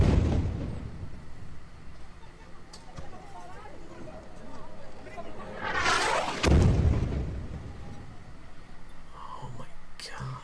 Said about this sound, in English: the Al Roya commercial building was destroyed. Journalist Ahmed Ibrahim captured the explosion on camera.